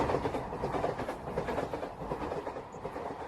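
A train rolling past a trackside signal, loud and close, with rhythmic clickety-clack of wheels over rail joints and a heavy rumbling body of sound throughout, no talking.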